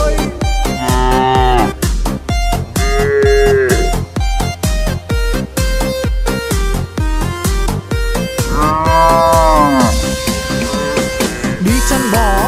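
Cow mooing in a lively Vietnamese children's song, with drawn-out moos sung or played over a loud, steady beat and repeating melody, several long calls rising and falling throughout.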